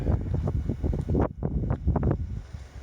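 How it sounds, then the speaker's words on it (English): Gusty wind buffets the microphone on the exposed headland of Berry Head nature reserve, near the old fort and lighthouse, in loud irregular bursts with a brief lull partway through. "It's a bit breezy"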